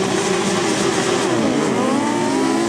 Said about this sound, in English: Revving up then for race 16, first heat of the 1000cc chairs.